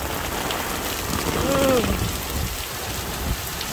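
Heavy rain pours down in a dense, steady roar, loud and close throughout, with a brief faint tone partway through.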